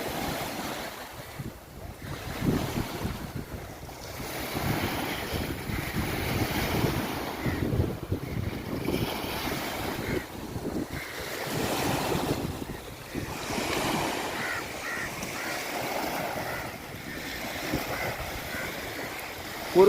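Strong wind sweeps over the microphone at a beach while sea waves roll in and break against the shore, the surf surging and retreating in repeated swells beneath a steady, gusty rumble, with no voices.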